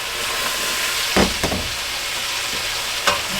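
Rabbit hash frying in a pan hisses steadily while being stirred, with a few scraping clacks of the utensil cutting through the continuous sizzle.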